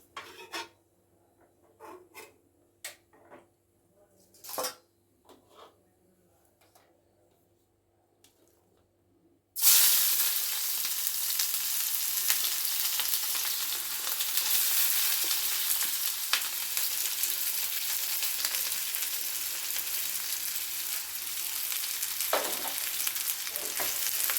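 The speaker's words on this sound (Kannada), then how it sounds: "ಈಗ ಇದಕ್ಕೆ ಈರುಳ್ಳಿ ಹಾಕಿ ಚೆನ್ನಾಗಿ ಅದನ್ನು ಎಣ್ಣೆಲಿ ಚೆನ್ನಾಗಿ ಫ್ರೈ ಮಾಡ್ಕೊಳ್ಳೋಣ" Onions drop into hot oil in a pan and fry, after several faint taps and clatters, then a loud, sudden hiss settles into a dense, steady sizzle that continues close and unbroken for over ten seconds.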